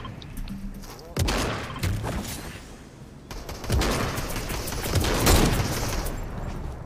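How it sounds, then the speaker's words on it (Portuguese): Gunfire crackles in a shooter video game, with bursts of rapid automatic fire and booming shots running through the whole stretch, loud and fairly continuous with a few swells and short gaps. "Tomando tiro?"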